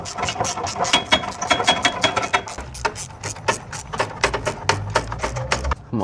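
Exhaust bolts on a Ford Ranger are tightened with a ratchet, giving a fast, steady run of close, loud clicks that continue for several seconds without pause.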